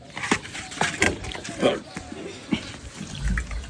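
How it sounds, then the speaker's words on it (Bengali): Water poured from a jug into a bottle at home, heard as a series of irregular glugs and splashes close by, with voices talking over and between the pours. "জল উল্টা দাও একেবারে, আমি বোতল ভরবো।"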